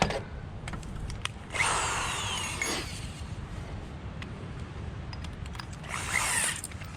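A power drill whirs in two short bursts driving screws into pre-drilled wood for a raised garden bed, separated by a quiet pause, close by, over a faint background hum.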